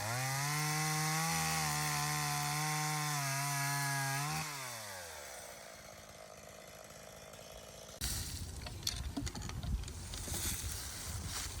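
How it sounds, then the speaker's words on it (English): A chainsaw engine revs loudly with steady harmonic tones, dips in pitch as it bites into logs from a large felled tree, then gives way to gritty cutting and crackling wood. "Then I began to cut my logs to size and started the inoculation process."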